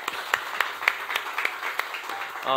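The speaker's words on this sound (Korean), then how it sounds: "우리 감사의 박수 하겠습니다." Brief congregation applause at Bundang Woori Church, a couple of seconds of lively clapping with a few sharp nearby claps, ending as a sustained musical tone comes in.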